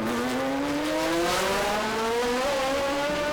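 A 1972 Eifelland E21 Formula One car with a 3.0-litre Cosworth DFV V8 holds a loud, sustained engine note that climbs steadily in pitch as it accelerates, with no talk.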